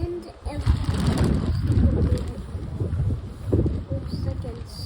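Strong wind roars and buffets the microphone in a steady, rumbling gust that swells and eases, with a voice talking underneath.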